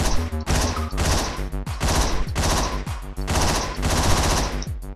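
Gunfire in the video game Hotline Miami comes in loud bursts of rapid shots, several volleys in a row with short gaps between them. The shots are close and harsh, with no talking over them.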